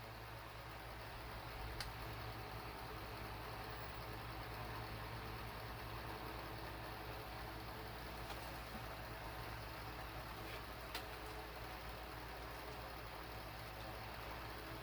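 A Bell & Howell/Emson socket fan runs at about 2,200 RPM, giving a quiet, steady, even whir with no talk and only a couple of faint clicks.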